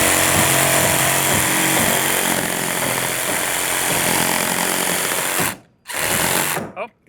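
A power saw cuts loudly through load-bearing wall framing, a harsh continuous buzzing roar that stops abruptly near the end, followed by a short burst of cutting before it falls silent.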